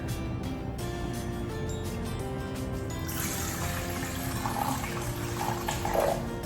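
Water runs steadily into a mixing bowl for a no-knead sourdough croissant bread dough, a continuous close trickle that brightens and splashes more in the last few seconds.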